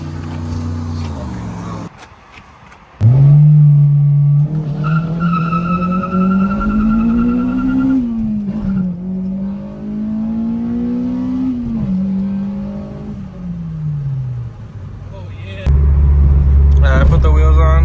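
Honda DC5 fitted with new wheels accelerates hard, its engine note climbing loud and close through several gears with brief dips at each shift, with a person talking over the engine.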